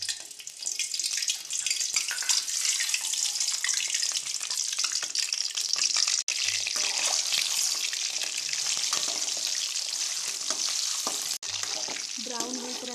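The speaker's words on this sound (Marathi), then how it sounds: "ब्राऊन होईपर्यंत ही अंडी आपल्याला तळायची आहे" Eggs frying in hot oil until brown for an egg curry, a loud, dense, steady sizzle with crackling spatter, close and continuous throughout.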